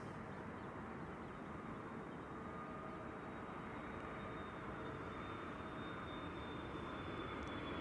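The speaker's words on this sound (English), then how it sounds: "Delta Airlines Flight 162 arrived from Minneapolis, Minnesota, A330-300." A Delta Air Lines Airbus A330-300 arriving at Amsterdam Schiphol Airport produces a steady, distant jet-engine roar and whine, heard from outdoors without any speech.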